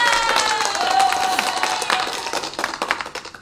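Audience of around two hundred people at a Thai online trading seminar claps together, a dense burst of applause that thins and fades out over a few seconds.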